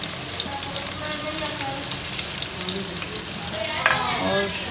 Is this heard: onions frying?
yes